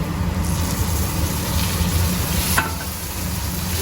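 Onion, garlic and tomato paste with red chilli powder and spices frying in a pan for spiced okra, a steady close sizzle running throughout with faint stirring.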